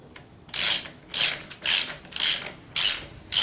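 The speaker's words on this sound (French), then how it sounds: "Alors, pour le démontage, on dévisse. On dévisse dans le sens horaire." Wrench working a bolt on a Brompton folding bike pedal, six evenly spaced bursts of dry ratcheting clicks, close and clear, with no talk.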